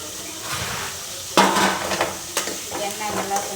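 Shallots fry in hot oil for a bitter gourd and shallot curry, a quiet sizzle that jumps louder as a spoon scrapes and clinks through the pan in several close stirring strokes.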